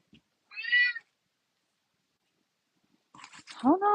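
A house cat meows twice, a short harmonic cry early on and a longer, rising meow at the end, both close and clear, with a brief bit of speech just before the second.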